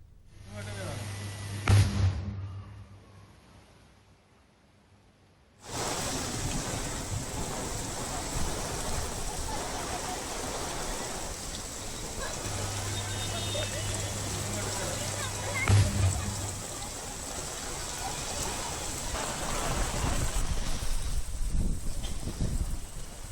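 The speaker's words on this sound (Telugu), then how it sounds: "ప్రాంతాల్లో భారీగా వర్షం కురుస్తోంది" After a short quiet stretch, heavy rain starts up over Hyderabad and pours down in a dense, steady wash that holds at a constant level.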